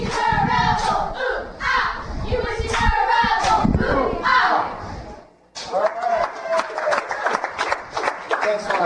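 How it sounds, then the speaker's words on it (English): High school cheerleaders shout a cheer together in rhythmic bursts, with sharp claps and stomps, loud and close, a brief pause, then another chanted routine. "The girls are going to cheer"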